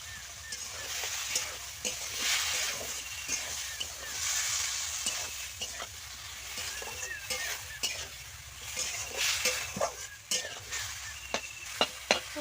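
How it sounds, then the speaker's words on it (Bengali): Masala with salt is sautéed in a pan and stirred: soft, steady frying hiss with scattered clicks and scrapes from the spatula throughout, fairly quiet. "ভালো করে এগুলো কষিয়ে নেওয়া হবে"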